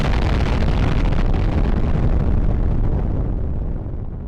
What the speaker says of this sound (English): Atomic bomb.